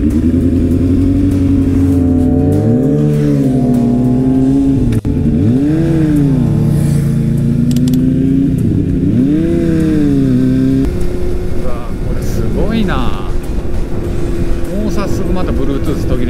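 A motorcycle engine runs steadily after a kick start, loud and close with rising and falling revs, wind noise over it during a touring ride.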